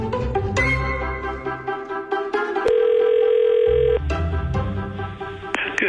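A phone line during a call to a florist, with a sustained electronic ring tone holding steady for over a second amid other short tonal beeps and background sounds, fairly loud and without talk.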